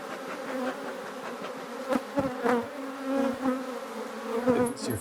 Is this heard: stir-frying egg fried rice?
no